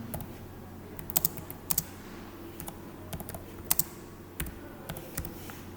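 Typing on a computer keyboard while working in Microsoft Word, quiet irregular clicks and short bursts of keystrokes close by, with soft pauses between them over a faint background hum.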